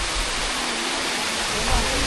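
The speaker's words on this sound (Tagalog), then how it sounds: "So nakikita na natin guys yung Tumalog Waterfalls." Tumalog Waterfalls in Cebu pouring down steadily, a loud, dense, unbroken roar of falling water close by, with no break across the whole stretch.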